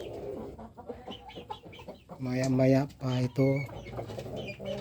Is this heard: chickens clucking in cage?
yes